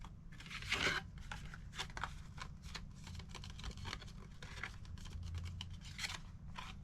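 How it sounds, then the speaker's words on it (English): Paper being folded along fold lines for a small handmade notebook, with soft crisp creasing and rustling, a few sharper crinkles and scrapes. It is close and quiet over a low steady hum, with no talking. "Now I'm going to fold on my fold lines"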